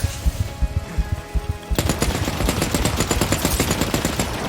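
Rapid automatic gunfire in The Cycle Frontier, a few spaced single shots first, then a dense sustained burst of loud, close shots running to the end.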